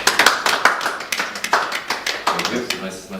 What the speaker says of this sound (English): I think we could all give Mike a round of applause